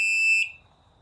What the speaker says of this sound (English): This is a test of the emergency broadcast system.